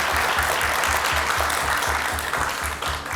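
Audience applause at a youth house stand-up comedy show, a continuous wash of clapping from a crowd that stays steady throughout with no speech.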